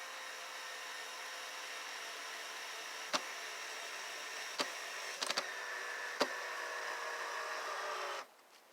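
Cordless drill driving screws into wood for a raised garden bed, a steady whirring motor hum with a few sharp clicks near the end before it cuts off.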